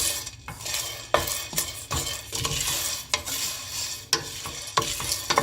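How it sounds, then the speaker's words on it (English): Black gram and cardamom dry-roasting in a pan, with frequent scraping and rattling stirs of a spoon over a faint crackle, heard up close and alone. "I'm also adding a little, about 1 teaspoon of cardamoms for flavor. I'm roasting it all together."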